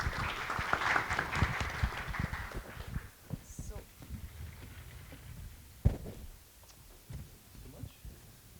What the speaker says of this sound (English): A big applause to the speakers.